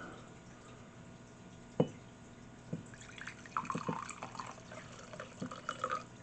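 1924 Cabernet Sauvignon, a limited edition, is poured into a glass, giving a quiet gurgling trickle with a few small drips. It is faint and close, with one light knock near the start.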